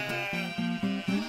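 Cartoon sheep bleating, a rapid series of four or five nasal, wavering bleats close up and loud, with no talk over them.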